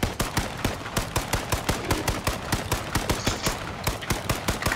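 Rapid automatic AR rifle fire from the H1Z1 video game, a steady rhythmic stream of close, loud shots running the whole time with no talk.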